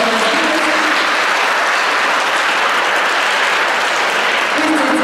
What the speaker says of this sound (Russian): Аплодисменты будут таким замечательным приветствием друг друга, вас, зрителей, артистов